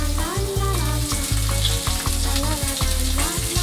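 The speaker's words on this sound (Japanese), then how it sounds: "サバをひまわり油で片面だけ焼きます 強火で焼くとこんな風にカリカリした感じになります" Mackerel fillet frying skin-side down in sunflower oil over high heat, crackling and sizzling loudly and continuously with dense popping, heard up close with background music underneath.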